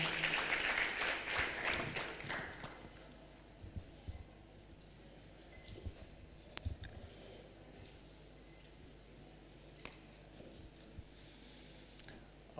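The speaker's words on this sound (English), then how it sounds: "Makofi kwake tafadhali." Audience applause at a funding launch event in Tanzania, a brief burst of clapping in the opening seconds that quickly fades into a quiet room with scattered small knocks and shuffles.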